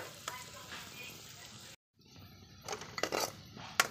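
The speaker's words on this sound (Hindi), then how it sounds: "अब ग्रेवी बनाने के लिए हमने इसमें घी डाल के उसमें हमने प्याज डाली है, उसको फ्राई कर रहे हैं" Onions and whole spices frying in ghee for a gravy, a faint close sizzle with light clinks of a utensil against the pan, broken by a brief silent gap partway through.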